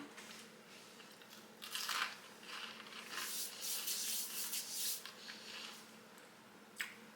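Close, crisp crunching of homemade bread croutons being chewed, irregular bursts of crackly bites with a final sharp crunch.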